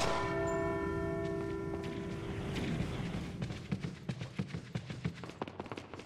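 A bell in a castle in the Resident Evil 4 remake rings after being shot, a loud, sustained metallic tone that fades out. A quick burst of impacts and clatter follows, with no talk.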